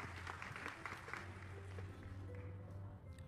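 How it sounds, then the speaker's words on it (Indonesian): A church congregation applauds, a soft, distant patter of clapping that tapers off, with a low hum running underneath. "tepuk tangan sekali lagi untuk Tuhan Yesus."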